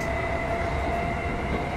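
In Minecraft Transit Railway, a fast train keeps running with an even, close rumble and a constant whining hum. The sound holds level the whole time, with no speech over it.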